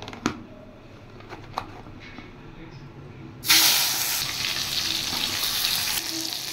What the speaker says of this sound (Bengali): বেগুন ভেজে নেব।